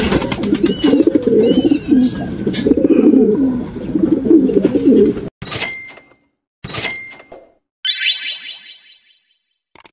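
Racing pigeons coo loudly and continuously at a loft during a pigeon race in Agoo, La Union, as a bird arrives. Sharp electronic clicks and beeps follow in short bursts.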